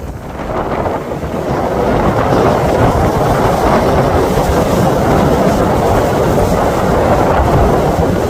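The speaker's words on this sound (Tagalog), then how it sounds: "Lakas ng hangin. Ang lalaki ng alon, no?" Loud, continuous roar of strong wind buffeting the microphone, with a deep rumbling wash of big sea waves underneath on a shoreline, building in the first seconds then holding steady.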